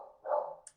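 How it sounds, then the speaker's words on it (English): A dog gives a single short, muffled bark from somewhere indoors, faint and brief, as if reacting to someone outside, with no talking over it. "so sorry about the dog barking."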